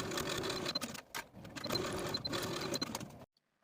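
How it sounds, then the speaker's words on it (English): A sewing machine runs in short bursts while stitching the shoulder seams of a silk dress facing, a steady mechanical whir with brief pauses, close and fairly quiet, ending abruptly in silence. "Sew your facing shoulder seams with a 5/8 inch seam allowance"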